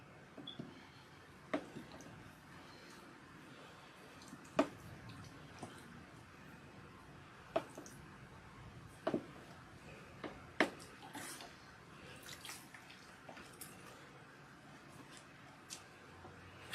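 Water rinsing oil out of hair, heard as soft splashing with scattered drips and wet squishes close by, punctuated by a few sharper splats against a quiet background, with no talk.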